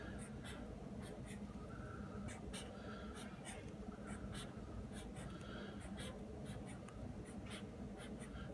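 Pen or marker strokes drawing hundreds blocks on paper for a place-value math lesson, a steady run of short scratchy marks repeating across the clip over a low background hum.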